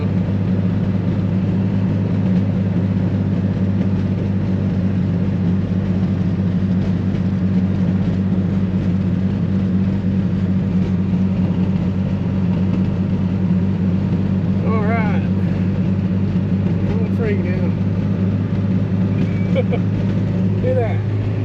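A 1949 Chrysler engine drones steadily and loudly as the car slows on engine braking, a constant low rumble throughout, with people talking over it.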